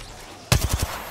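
A loud, close burst of about four rapid gunshots in a first-person shooter video game rings out after a quiet moment, with no talking.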